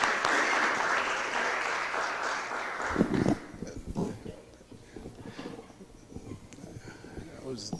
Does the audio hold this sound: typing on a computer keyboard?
no